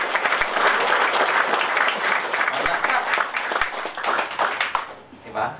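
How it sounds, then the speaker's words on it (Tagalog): Audience applause at a live show, dense steady clapping from a crowd filling the room for about five seconds before tapering off. "Thank you, sa palakpak."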